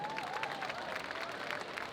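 Steady applause from an audience fills the whole stretch, dense and even, with a faint voice carrying over the clapping.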